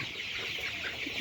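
A flock of 27-day-old layer chicks on a poultry farm keeps up a steady, busy clucking and peeping, close and unbroken.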